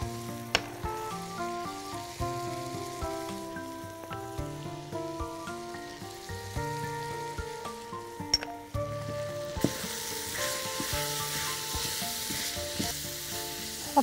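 Garlic and spices sizzle steadily in a hot pan, a continuous moderate frying hiss with occasional light clinks and stirring, no voices.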